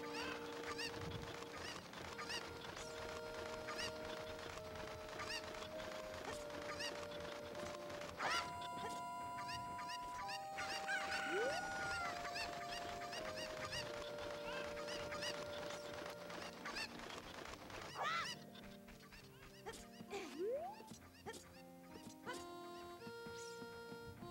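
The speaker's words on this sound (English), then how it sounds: "So I want to finish up these chickens quickly before I lose the prompt for Navi." Cuccos cluck and squawk in The Legend of Zelda in repeated short game calls, with honking cries, over layered background game music.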